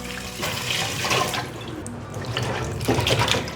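Filtered water runs and splashes as lotus root slices are rinsed in a bowl, close and moderately loud, with bursts of pouring and dripping and no talk.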